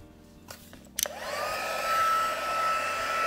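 Embossing heat gun clicked on and whirring up to a steady loud blowing hiss, with a few handling knocks before it starts.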